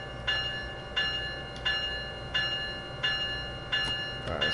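A simulated train rolls through Sunnyside Yard in Train Sim World 2020 with a steady low rumble, broken by a regular bell-like clank that repeats about every seven-tenths of a second.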